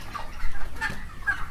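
Chickens on a contract poultry farm cluck steadily at mid distance, several birds overlapping in a continuous barnyard chatter with no talk.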